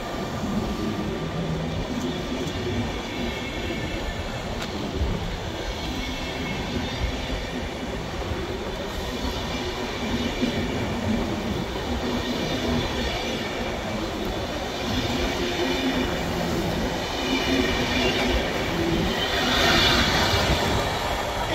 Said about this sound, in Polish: PKP Intercity relacji Kołobrzeg Warszawa Zachodnia